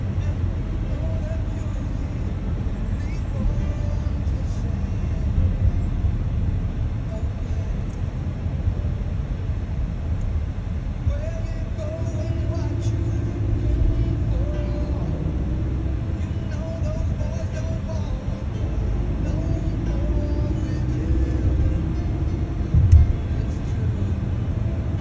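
Highway traffic on I-95, including vehicles passing a trailer, forms a steady low rumble of passing cars and trucks that runs unbroken throughout, with a brief thump near the end.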